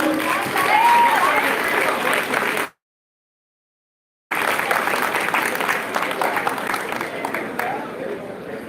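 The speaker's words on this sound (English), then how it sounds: "A big round of applause for this group." An audience at a women's safety awareness and training session applauds with a dense, sustained patter of clapping, broken by a brief silent gap before the applause picks up again.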